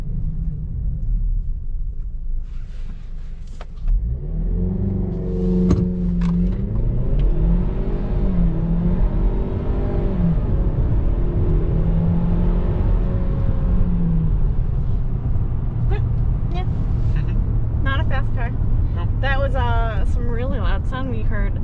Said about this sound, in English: Fords have a really whooshy exhaust sound for some reason.